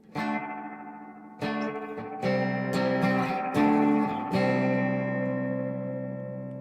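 A spring reverb pedal turns plucked electric guitar chords into a fast, pulsing tremolo washed in heavy reverb, with several strums ringing out and decaying at close range.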